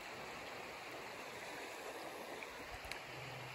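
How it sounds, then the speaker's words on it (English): A river flows past hemlock trees in Pennsylvania woods during rifle season, making a constant soft rushing hiss, steady and moderately distant with no voices. "looking at the river"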